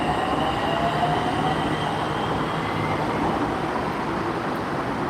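A Bangkok skytrain departs with a steady, close rumble of wheels on rail. A faint squealing whine rides over the rumble as the train pulls away, and there are no voices.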